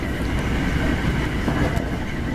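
Hankyu Kyoto Line train at dusk, a steady loud rumble of wheels and motors with continuous broadband rail noise and faint clicks, heard alone without talk.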